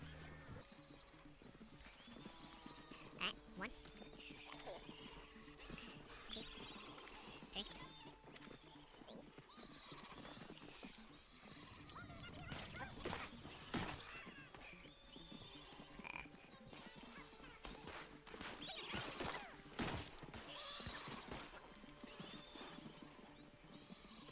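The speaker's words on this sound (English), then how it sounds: "I accidentally told my horse to flee." A horse in the video game Red Dead Redemption 2 neighs and whinnies repeatedly as it flees, its hooves clip-clopping beneath. The sound is steady and close throughout, with some game ambience and faint voices in the background.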